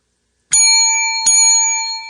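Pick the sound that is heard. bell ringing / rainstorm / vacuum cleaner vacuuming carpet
bell ringing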